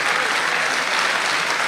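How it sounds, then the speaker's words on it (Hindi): Audience applause for a poet at a shayari recitation event, a dense steady wash of many hands clapping that fills the whole moment without a break. "हाफिज भाई के लिए तालियां बजाएं यार"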